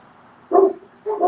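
A dog barks twice, two short close bursts about half a second apart, rising over a quiet outdoor campfire background with no talk.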